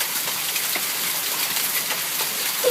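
Hail pours down during a summer hailstorm in Omaha, Nebraska, a loud, dense, continuous hiss of ice pellets striking surfaces nearby, with scattered sharper impacts throughout.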